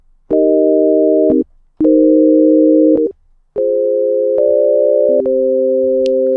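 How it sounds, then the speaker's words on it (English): A dry distorted saw wave synth plays four loud, buzzy sustained chords with short silent gaps between them, the last two running nearly together with a pitch change midway. "I'm going to use a saw wave, well, a distorted saw wave for the stereo signal"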